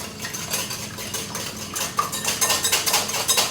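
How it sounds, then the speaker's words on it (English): Eggs whisked on their own in a bowl with a whisk, a steady run of quick metallic clinks and taps that grows louder and more rhythmic toward the end, with no talking. "we are gonna start with our eggs. And give those a nice little whisk all on their own."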